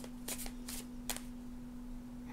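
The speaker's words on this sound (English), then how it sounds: "Let's shuffle a little bit more." Oracle cards are shuffled in three short riffling bursts, close and soft over a low steady hum, with pauses between.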